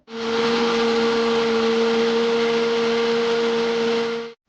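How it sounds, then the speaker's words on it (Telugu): A kitchen mixer grinder runs continuously for about four seconds, blending curd into a smooth paste for a chicken biryani marinade. The motor whirs loudly and steadily with a strong hum, then cuts off abruptly, and no one speaks over it. "సో దీన్ని గ్రైండ్ చేసేద్దాము"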